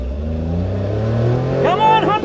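Engines rev hard as a Nissan Fairlady Z and a Honda Beat launch in a drag race, a loud rising engine note climbing in pitch, with a voice cutting in near the end.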